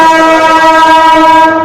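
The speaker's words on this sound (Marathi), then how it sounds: "हे बघा, जवळच चालले ट्रेन." A train passes close by in Sewri, Mumbai, its loud sustained horn blaring steadily over the rumble of the wagons.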